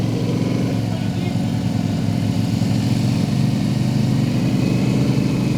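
Off-road vehicle engine driving through mud in four-wheel drive on a storm-hit farm, a steady loud rumbling drone throughout with people talking over it.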